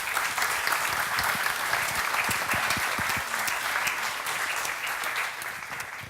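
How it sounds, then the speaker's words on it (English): A startup summer camp audience applauds steadily after a talk, dense sustained clapping filling the room from start to finish and fading slightly near the end. "A big applause, please."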